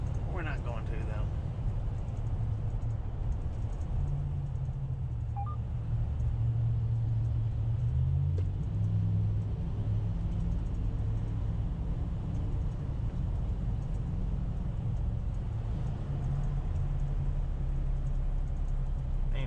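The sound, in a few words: truck driving through long Eisenhower Tunnel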